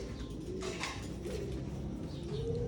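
Breeding pigeons coo in a loft, several low soft rolling calls overlapping against a steady background murmur, close by and without talk.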